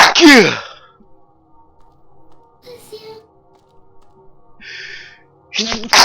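A sharp, close sneeze bursts out at the start, followed by quiet stretches with faint breathy sounds and a soft gasp, and another short vocal burst at the end.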